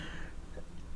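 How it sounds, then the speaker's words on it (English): A single sharp cough bursts out at the very end after near silence, close and loud. "And now I want to cough."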